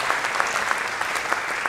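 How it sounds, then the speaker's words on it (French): An audience at the opening ceremony of the FFAP 2019 congress in a Palais des Congrès applauds the volunteers, with dense, steady clapping throughout at a fairly loud, even level. "Oui, vous pouvez les applaudir."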